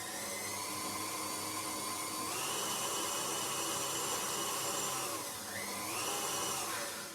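An electric whisk gives cherry whoopie pie cake batter a very quick mix: a steady high-pitched motor whine with a couple of pitch shifts, close and alone.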